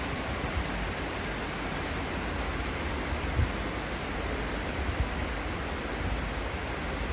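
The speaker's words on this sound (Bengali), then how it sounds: "এখন বৃষ্টির প্রকোপ আরো বেড়ে গেল" Heavy rain pours steadily over a Bangladeshi city during a storm, a dense, even hiss of downpour with a few closer drops landing on a surface.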